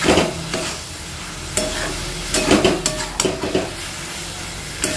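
A spoon stirs and scrapes through tomato and chopped aamsotto (mango leather) chutney in a pan over the heat, with soft sizzling and irregular bursts of scraping close by. No one speaks.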